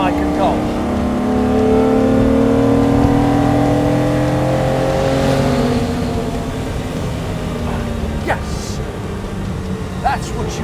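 1962 Ferrari 250 GT SWB engine accelerating out of a turn, a loud rising engine note held for several seconds and then easing off, heard from inside the car with a voice talking over it.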